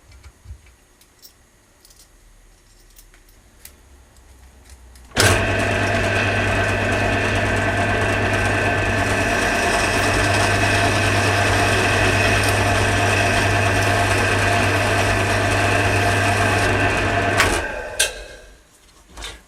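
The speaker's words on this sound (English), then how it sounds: "stick them in a drill and rub some sandpaper against them" A drill spins small curtain-track pull-cord parts against sandpaper, a steady whirring hum with a constant low drone and gritty rubbing that starts abruptly, holds for about twelve seconds, then winds down.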